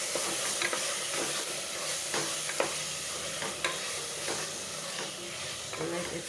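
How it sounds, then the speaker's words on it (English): Mutton with a tablespoon of mutton masala sizzles and hisses steadily in a frying pot, with repeated close scraping strokes from the stirring spoon every second or so. "Now I put in 1 tablespoon of mutton masala, and I'll stir that very well."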